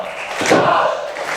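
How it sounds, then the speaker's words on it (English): A crowd at a wrestling event roars and calls out together, a loud swelling mass of voices peaking midway through a short burst, close and energetic. "He's getting the crowd are calling for it now."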